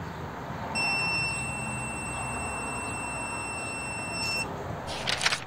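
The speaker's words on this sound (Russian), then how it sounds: "Также прибор издает звуковой сигнал, когда сопротивление измеряемой цепи меньше 50 Ом." A GVDA GD181 automotive multimeter emits a steady, high continuity beep that holds for about three and a half seconds, alone over faint background hiss, followed by a couple of brief rustling clicks.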